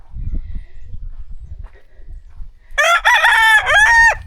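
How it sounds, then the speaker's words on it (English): A rooster crows once, loud and close, in a drawn-out call after a stretch of soft low thumps and rustling. "And crowing on top of it."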